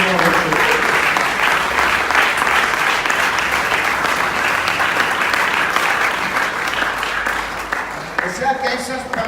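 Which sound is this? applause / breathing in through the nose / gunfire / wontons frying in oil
applause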